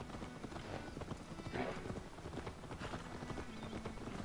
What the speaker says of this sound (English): Oh no, it's the horses.